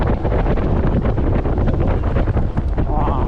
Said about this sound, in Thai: ไม่ไหววันนี้ลมแรงมากเลย